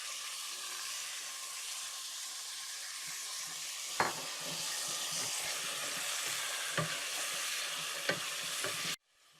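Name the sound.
meat frying and being stirred in pan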